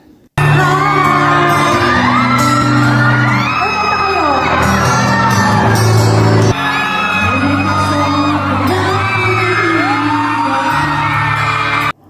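A packed crowd at a media fan con screams, whoops and cheers without pause, a loud, dense roar with steady music beneath it.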